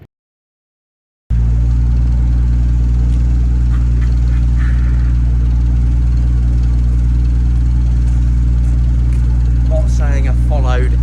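Loud, steady engine drone from a Unimog running as its Hiab crane swings a load onto a trailer, a constant close idle with a brief whine near the end.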